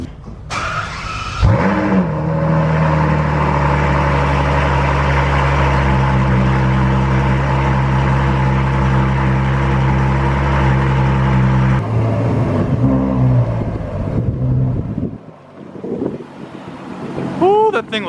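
A V12 Ferrari engine roars loudly and steadily while driving for about ten seconds, then drops away, leaving quieter rumbles and brief revving swells near the end.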